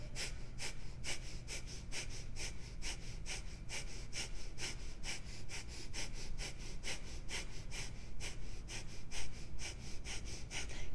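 Rapid, forceful yoga breath of fire with arm pumping, a steady stream of sharp rhythmic exhalations, about three per second, close and loud throughout with no talking.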